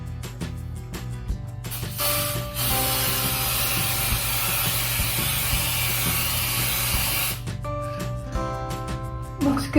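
A steady, loud hiss of spray from a spray can runs for several seconds, with clattering and rattling before and after it.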